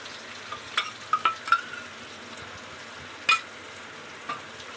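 A turmeric and chilli spice paste fries for chicken curry, with a steady close sizzle and a few sharp clinks and scrapes of a utensil against the pan scattered throughout, no voices.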